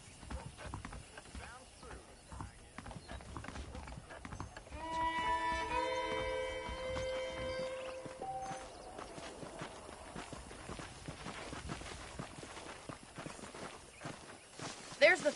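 Saddled horses clip-clop in the Red Dead Redemption video game, with steady close hoofbeats and a brief tonal whinny-like sound midway, while voices talk over them.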